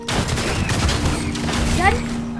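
Rapid bursts of video game gunfire during an arena match, loud and continuous beneath excited player talk.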